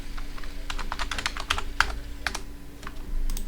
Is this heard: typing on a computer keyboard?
yes